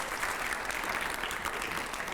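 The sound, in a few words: audience applause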